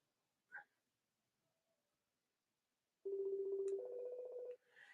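FaceTime call ringing on a phone, one short chirp followed later by a steady electronic tone of about a second and a half, fairly faint, with no talk.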